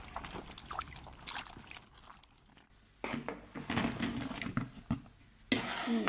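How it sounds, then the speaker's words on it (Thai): Chili peppers are rinsed under running water at a kitchen sink, with a steady splashing stream that pauses briefly midway and then resumes with clattering handling of the wet peppers. "ล้างพริกก่อนนะคะ"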